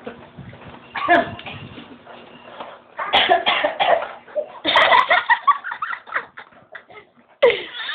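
Several bursts of coughing, close and fairly loud, separated by short pauses, with some faint background noise between them.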